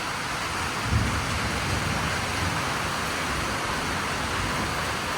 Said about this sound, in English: About to start pouring again, Tierney.